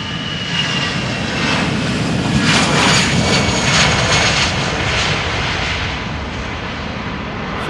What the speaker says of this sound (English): if you don't like noisy airplanes that have a slow retracting landing gear